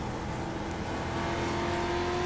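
A street stock race car in a short-track racing video game holds a steady, loud engine drone on a lap, a sustained tone rising slightly throughout, with no talk over it.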